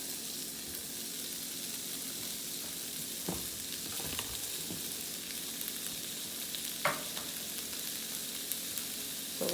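Bacon and pre-cooked lobster tail frying together in a pan for fried rice, giving a long even crackling sizzle with a few scattered stirring scrapes, nearby and fairly soft, no voices heard.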